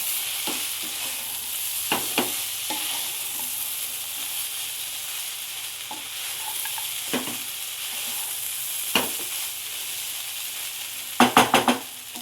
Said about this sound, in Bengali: এবার লেবুর রস আর চিনি দিয়ে আমি আর একবার পোহাটা ভালো করে নাড়াচাড়া করে নেব।